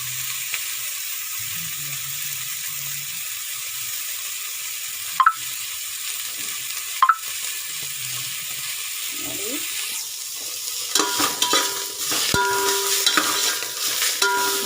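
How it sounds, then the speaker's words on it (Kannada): Greens for a chutney sizzle and fry in a pan over steady normal heat while being stirred, with scraping pulses and a louder clatter of spoon against pan toward the end. "ಇನ್ನೂ ಚೆನ್ನಾಗಿ ಫ್ರೈ ಆಗಬೇಕಿದು ಚೆನ್ನಾಗಿ ಫ್ರೈ ಆದಷ್ಟು ನಮಗೆ ಚಟ್ನಿ ಚೆನ್ನಾಗಿ ಬರುತ್ತೆ"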